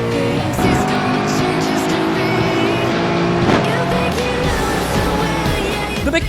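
Race car engines roar steadily in an iRacing multiplayer race as a McLaren and a BMW run side by side, a loud continuous drone with shifting pitch and no pauses.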